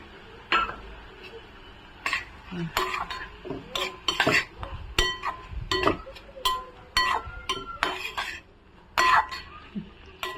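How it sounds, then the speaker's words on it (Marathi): Soaked masoor dal being stirred and sautéed with onion in a metal pan, sharp irregular clinks and scrapes of a spoon against the pan, close by, with an occasional cough in between. "छान असं आहे ना आपण डाळ कांद्यामध्ये परतून घेणार आहोत।"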